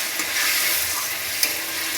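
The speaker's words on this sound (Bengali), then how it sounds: "এবার অল্প একটু জল দিয়ে আবার একটু কষাই নেব।" Spices with ginger, green chili, salt and turmeric, cooked with a splash of water, sizzle steadily in a pan while being stirred, with a close continuous frying hiss and a light scrape of the spoon.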